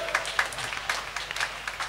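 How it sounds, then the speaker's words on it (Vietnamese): Children clapping in applause at a Lenten retreat for young parishioners, a short burst of scattered, uneven claps lasting under two seconds. "vỗ tay đi chung các bạn ơi"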